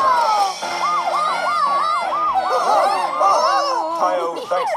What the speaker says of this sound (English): Isn't that a siren?